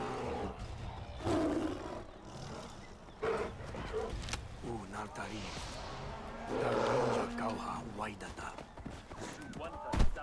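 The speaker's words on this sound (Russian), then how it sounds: "Я еще тигра какого-то слышу." A tiger roars in the video game Far Cry Primal, deep, rumbling growls rising and falling among footsteps, hoof clops and other in-game noise, with a voice talking over it.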